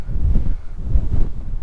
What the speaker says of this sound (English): A bit windy. Too windy for good filmmaking purposes